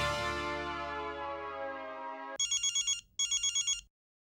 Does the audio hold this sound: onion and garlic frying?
no